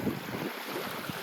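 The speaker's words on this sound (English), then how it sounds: "So right now there are high tides going on here." High-tide ocean waves wash in at a beach, a steady rushing surf with wind buffeting the microphone, no voices.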